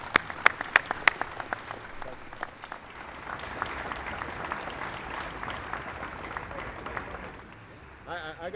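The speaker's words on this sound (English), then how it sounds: "Give them a big round of applause." Crowd applause at a White House ceremony honoring a NASCAR Sprint Cup champion, starting with loud close claps that settle into steady sustained clapping from a large audience.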